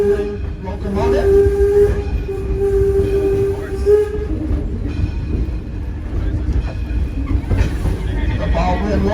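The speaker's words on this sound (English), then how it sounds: "You're being pulled by the beautiful number 7 Baldwin locomotive." Passenger train hauled by a Baldwin No. 7 steam locomotive built in 1897, weighing up to 70 tons, rumbling steadily on a heritage line with a long sustained whistle tone early on; a voice talks over the running noise.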